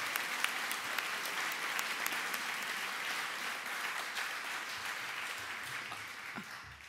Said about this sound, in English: I think we all ought to give Tammy and her crew a round of applause